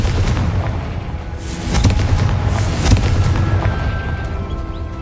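A fiery Confringo spell blast goes off in Hogwarts Legacy, a loud booming explosion with a rumbling tail and a second swell of blasts close by, with no talking over it.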